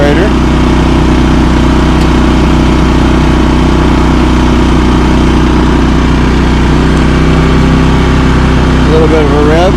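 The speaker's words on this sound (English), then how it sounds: "See if we have a drain on the generator." A Champion 3400-watt dual fuel inverter generator runs steadily under an electric heater load, a loud constant engine drone close by, with a person speaking over it.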